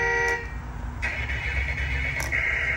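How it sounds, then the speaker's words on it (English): Horn of a Lesu RC construction roller: two short electronic toots, the second longer and steady, sounding close over a low continuous hum, with no talk. "Need your horn."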